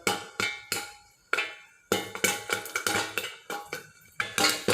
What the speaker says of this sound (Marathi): आता हे बघा एक एक पॉपकॉर्नचा आवाज येत आहे